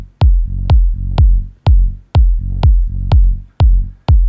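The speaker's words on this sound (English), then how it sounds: "I'm going to start with a kick in the bass" An electronic track's kick drum and bass: eight punchy, booming kicks at a steady tempo, each followed by a sustained low bass note, loud and alone.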